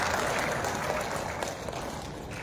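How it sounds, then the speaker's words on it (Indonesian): Sustained applause from a seminar audience, a dense patter of clapping that holds steady throughout. "Tepuk tangan saudara-saudara."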